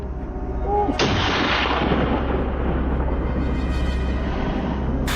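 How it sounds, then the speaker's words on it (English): A single sharp, loud gunshot fired from a helicopter at wild boar bursts out, followed by a long rumbling boom that sits over the constant low thrum of the helicopter. "A loud bang tore through the silence, and the leader of the wild boars was shot down instantly."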